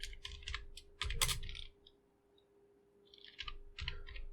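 Bursts of fast clicking keystrokes on a computer keyboard while coding, close and crisp, with a short pause in the middle before typing resumes.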